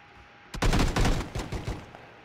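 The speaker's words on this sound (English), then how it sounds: "somebody's coming in here and they got a gun" A burst of video game gunfire, a rapid volley of loud, close shots lasting under two seconds with no talk over it.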